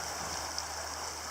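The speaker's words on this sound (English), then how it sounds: "Beautiful spot beside the creek." A creek flows beside a quiet spot on a solo nature walk, giving a faint, steady, even rushing of water with no talking.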